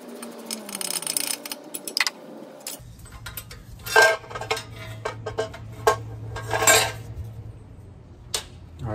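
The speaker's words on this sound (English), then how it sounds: "that sound was the little heat shield that goes on to the pipes" A loose metal exhaust heat shield on a 2006-2012 Mitsubishi Eclipse 2.4L, rattling and tinkling in irregular clanks and taps over a low steady hum, close by with no talking.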